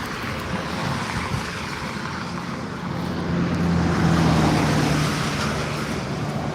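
A car drives past on a road near Devil's Slide in Utah, a broad rushing roadway noise that swells toward the middle and stays fairly loud with no talking.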